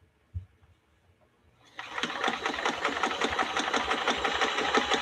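A vintage Kenmore sewing machine starts up after a soft knock and then stitches steadily, a close, fast, even mechanical whirr with rapid rhythmic ticking that holds to the end.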